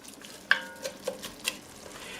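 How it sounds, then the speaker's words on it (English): Peppers and spices are stirred in a pan with a few distinct clinks and scrapes of a utensil against the pan, spaced about half a second apart, over a soft background sizzle of simmering food. "I'm going to stir this around and let this simmer till I can really smell the spices"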